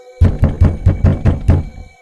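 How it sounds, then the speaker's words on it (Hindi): Six sharp, evenly spaced knocks on a wooden door, loud and close with no talking, heard as part of a Hindi horror story. "तभी फिर से कोई दरवाजा खटखटाता है।"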